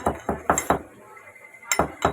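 Whole garam masala pounded in quick, sharp knocks with a metallic clink, four strikes in a row, a short pause, then two more, all close and clear.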